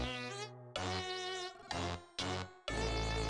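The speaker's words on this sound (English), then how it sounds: "I like how it sounds like bees buzzing." Dense, harmonic insect-like buzzing from bees in the video game The Cabin Factory, loud and close, coming in several bursts separated by brief gaps.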